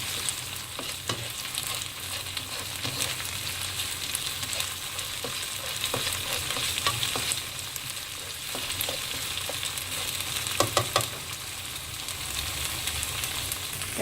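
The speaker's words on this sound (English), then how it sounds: "so now let the sambal cook well with the onions" Sambal cooks with onions in a pan, giving a dense, even frying hiss close by, with occasional stirring scrapes and clicks, and no voices.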